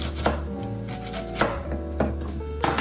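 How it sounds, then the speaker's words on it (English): A knife chops food finely on a cutting board, landing as a series of crisp, close thuds at an uneven rhythm, roughly one every half second to second, with no talking. "when I start to slice, I can get some very finely chopped pieces"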